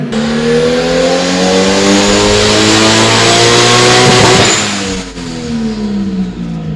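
A big-turbo RB20DET engine running on E85 in an off-road 240SX screams through a loud, sustained high-rev pull during a power run, pitch climbing steadily before dropping off sharply near the end, then settling into a rough idle.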